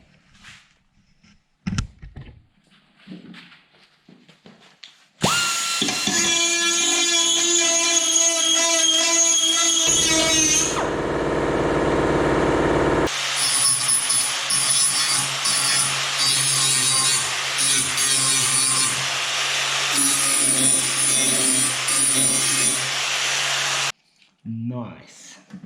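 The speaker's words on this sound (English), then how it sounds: "Now I'm prepping all the edges. Gonna put a light chamfer" A power tool chamfers the edges of a steel patch panel for a Volkswagen Transporter rear door, a loud sustained grinding whine in long runs with short quiet gaps and a few knocks at the start.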